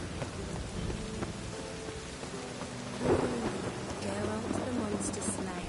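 Steady heavy rain with a rumble of thunder in The Witcher 3 video game, a continuous wash of downpour with a louder roll near the middle, and a voice speaking over it.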